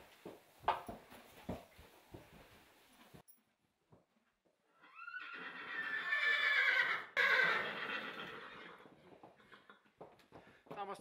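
A horse or pony at a shelter gives one loud, drawn-out whinny, close by, with scattered hoof clops and voices talking before and after.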